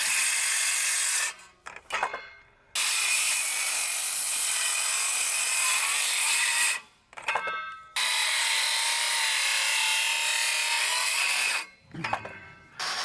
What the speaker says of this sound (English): I cut the posts to the height I wanted by using a circular saw to cut the full depth of the blade on all 4 sides.